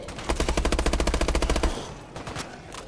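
A rapid burst of automatic gunfire in Call of Duty: Advanced Warfare Exo Zombies, about fifteen quick evenly spaced shots over a second and a half, followed by a few scattered fainter impacts.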